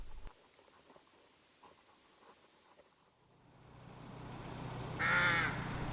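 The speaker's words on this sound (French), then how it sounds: "En ville, les corbeaux-freux nichent en colonie dans certains parcs" Rooks caw from a nesting colony in a town park, a couple of harsh calls rising near the end over a low urban background rumble and faint patter.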